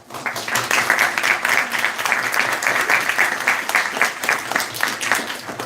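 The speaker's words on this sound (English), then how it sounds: "This applause is for you." Delegates and guests applaud at a model United Nations closing ceremony, a large crowd clapping with a rising start and then a loud, steady, rhythmic roar that carries through to the end.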